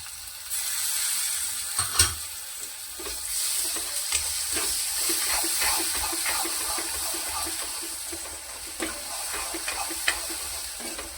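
Tomatoes dropped into spiced masala of turmeric, coriander powder and salt, frying in a pan for a capsicum jhunka; steady close sizzling with scattered crackles and stirring clinks, no talk.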